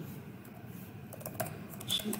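Computer keyboard typing in short bursts of soft clicking keys, close and fairly quiet, with a few louder taps toward the end.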